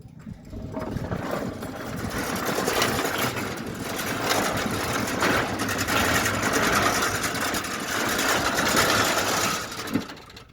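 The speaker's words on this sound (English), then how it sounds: "let's quickly test it, as you can see, and listen to the gate motor" Centurion D5 Evo sliding gate motor, repaired after wear, running steadily with a continuous buzzing mechanical drone and heavy vibration, close and alone for about ten seconds before a brief clunk near the end.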